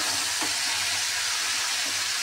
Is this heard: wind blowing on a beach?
no